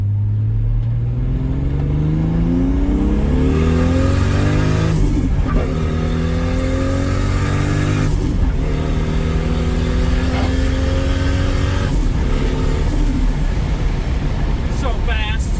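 A 1000-horsepower Toyota Supra engine revs hard through several gears in a full-throttle run, each shift cutting the roar before it climbs again, loud and close.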